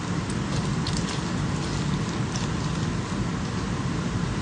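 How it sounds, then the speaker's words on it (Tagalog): Heavy rain falls in a steady, dense wash that stays loud and unbroken throughout, with a low rumble underneath and no voices. "Lumalakas na naman yung ulan."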